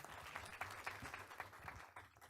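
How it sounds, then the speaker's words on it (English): An audience at a school board meeting applauds a high school tennis team, a faint, steady patter of clapping from a seated crowd that thins out toward the end. "Let's give them a round of applause."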